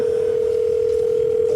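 A steady telephone tone from a call on speakerphone, one unbroken tone held at even volume throughout.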